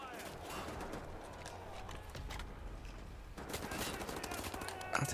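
Gunfire in Wolfenstein: The New Order, a rapid rattle of shots in a busy, noisy game scene, with talk mixed in over the shooting.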